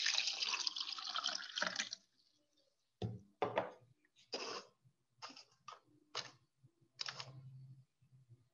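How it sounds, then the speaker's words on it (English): Water poured into a drinking glass gives a few seconds of continuous splashing. After a short pause come several brief trickles and small clinks, with a faint low hum underneath. "I will add some water in my glass."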